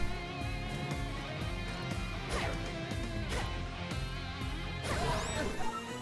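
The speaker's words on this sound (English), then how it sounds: "He got demolished by the glass mace." A glass mace smashing into Dark Link in the rhythm game Cadence of Hyrule, crashing hits landing over steady game music, with a stronger impact flurry near the end.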